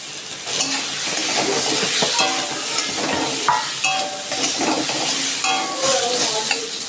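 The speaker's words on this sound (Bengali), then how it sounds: "আলু আমি বেশি ভাজবো না" Potatoes frying in oil with salt and turmeric, a loud continuous sizzle close up, broken by frequent spatula scrapes and bubbling crackles through the whole stretch.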